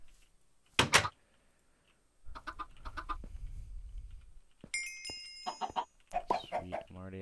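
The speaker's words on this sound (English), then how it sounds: "Where did that chicken go?" Clucks and squawks of a chicken in the video game Minecraft, a sharp burst of clucking followed by scattered game noises, a rumbling patch and bright chiming tones, with no voice over them.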